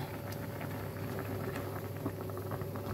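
Steady bubbling and popping of tomato sinigang soup boiling in a pot, a continuous busy patter with no voices.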